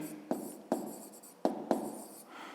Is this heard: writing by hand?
yes